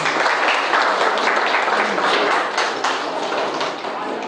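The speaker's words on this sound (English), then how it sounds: "Big round of applause to all our professors." An audience at a talk on the expulsion of students from IIT Roorkee applauds its professors, sustained dense clapping from many hands, loud and even throughout.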